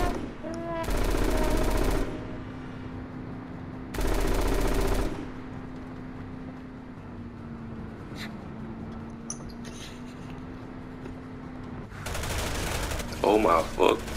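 Bursts of automatic gunfire rattle in a video game, two loud volleys a few seconds apart over a steady electronic hum, with scattered small clicks and a third burst near the end.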